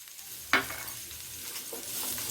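Finely chopped onions with chopped green chilli sizzle steadily in a pan, a constant soft frying hiss broken by one sharp stir, and no voices.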